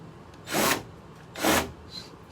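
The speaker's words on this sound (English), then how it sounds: "Drill." A power drill driving screws while installing a door knob, heard as two separate loud whirring bursts close by, plus a softer third burst at the end.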